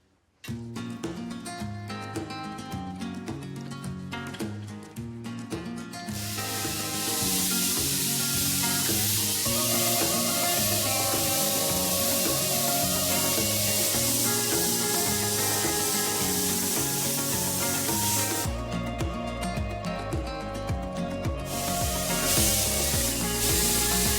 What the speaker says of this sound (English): I'm going to do my absolute best now with various different grits of sandpaper and grinding wheels to try and smooth this out